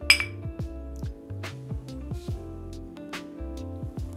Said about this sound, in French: Allez, on trinque.